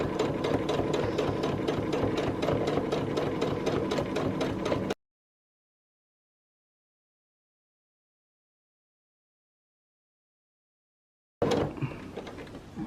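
A home sewing machine stitches binding onto a quilt with a fast, steady mechanical whir for about five seconds. Silence follows, then the motor starts again briefly near the end.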